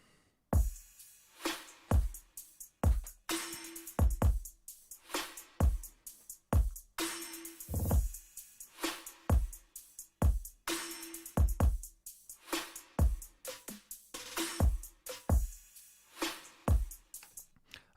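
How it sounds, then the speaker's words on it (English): A sampled drum loop plays back in a mixing session, with crisp repeating kick, snare and hi-hat hits in a steady groove and short gaps between beats. "So the first thing that I have here is the drum loop"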